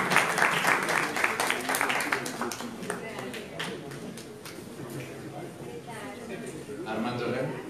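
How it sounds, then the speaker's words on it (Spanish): An audience applauds after a thank-you at an architecture discussion gathering: a loud burst of clapping that dies down to a faint patter, with a voice speaking over the tail end. "Un aplauso."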